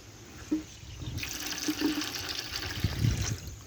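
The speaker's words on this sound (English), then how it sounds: "We have water flow" Water rushing through a newly installed siphon drain during a plumbing test, a continuous turbulent flow that swells after a second with gurgling bursts and splashes.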